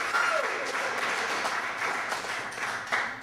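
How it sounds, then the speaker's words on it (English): Audience applause for a poet at a library poetry reading, a steady dense clapping from a small indoor crowd that holds fairly even throughout and stands alone without talk. "let's give her a great round of applause"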